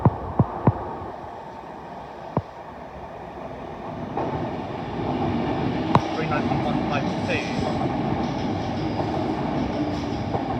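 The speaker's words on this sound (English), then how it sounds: "here comes another train" A train rumbles past in North London, a steady roar of wheels on rails building up and continuing, with a few sharp clicks near the start.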